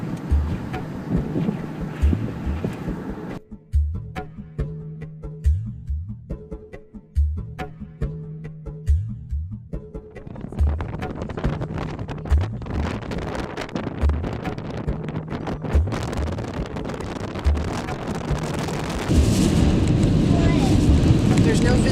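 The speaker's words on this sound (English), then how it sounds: "we're driving into a windstorm" Strong wind buffeting a vehicle driving into a windstorm past livestock feedlots, a loud roaring rush that builds and stays heavy, with people talking inside the vehicle over it.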